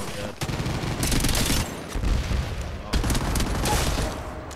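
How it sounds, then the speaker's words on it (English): Gunfire from a Kraber sniper rifle in Apex Legends Mobile, played in first-person mode: sharp shot bursts crack out several times over a noisy, dense game mix, with some voice chat mixed in. "I just got sniped, mate. Yeah, I think it's a Kraber."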